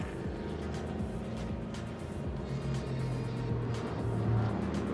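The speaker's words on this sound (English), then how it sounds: "Another Toyota machine passes through." A Toyota race car passes along the Sepang International Circuit, its engine a steady, moderately distant drone against constant track ambience.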